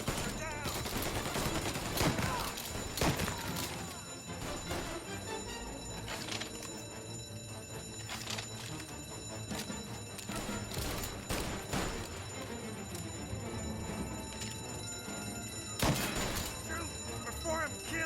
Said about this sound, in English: Shotgun fight.